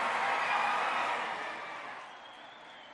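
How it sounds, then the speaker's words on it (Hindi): At a government-hosted Iftar dinner attended by the Telangana Chief Minister, a crowd's loud applause rings out, then gradually fades and thins over three seconds. "जोरदार तालियां, जोरदार तालियां।"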